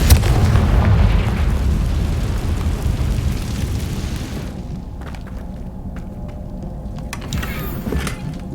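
Confringo fire spell in the game Hogwarts Legacy, a loud booming explosion that hits at the start and rumbles for several seconds before fading into quieter crackling game ambience.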